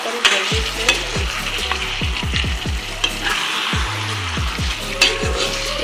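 Mutton fries and crackles in a hot pan for a homemade village-style Assamese curry, with a spatula stirring and scraping in quick, irregular strokes close by. No voices are heard.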